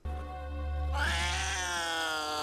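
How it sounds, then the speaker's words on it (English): A cat meows in the sci-fi horror film Species III, one long plaintive wavering cry that swells and holds over a steady low background hum. "Moving on, we see a cat."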